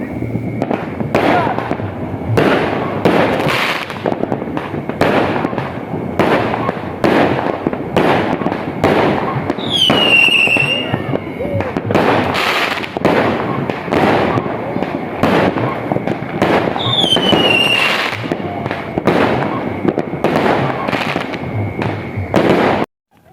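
Rapid repeated New Year fireworks bursts over a campsite, loud and rhythmic, cracking one after another with a couple of whistling rockets rising partway through.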